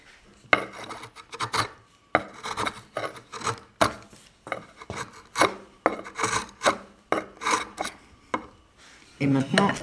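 A wood chisel cuts into a very crooked piece of wood in a workshop, making repeated rasping, scraping strokes in a steady uneven rhythm, each stroke close and fairly loud, with brief pauses between them.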